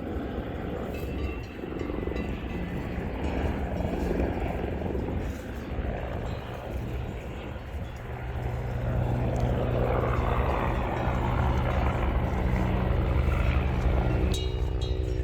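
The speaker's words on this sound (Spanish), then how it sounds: "Este helicóptero." A helicopter flies over a burning dehesa pasture with cattle below. Its steady rotor drone grows louder and nearer partway through, with people talking at times beneath it.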